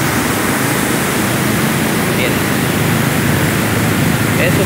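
A river swollen after a landslide along the Aloag–Santo Domingo road rushes downstream, a loud, constant broadband roar of churning water with no break.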